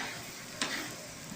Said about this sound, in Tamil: நம்ம நறுக்கி வச்சுருக்கக்கூடிய பொடி வெங்காயம் இதை உள்ள தட்டி நல்லா கிளறி